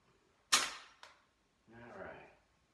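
FSC air rifle fitted with a new 9-inch rifled SSD barrel fires a single sharp, loud shot, followed by a brief faint click, then a short muffled burst of low noise.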